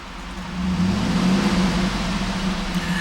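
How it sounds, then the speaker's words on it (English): A 2011 Cadillac Escalade ESV Platinum AWD engine revs up after a brief quieter start, holding a steady, close, loud mechanical drone with a low hum throughout, with no talking. "I'm going to rev the engine"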